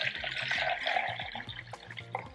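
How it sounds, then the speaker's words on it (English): Rice water pours from a container into a jug, a close gurgling, bubbling stream with pitched glugs that rise and fall as the liquid flows. "I'm going to pour some into the jug."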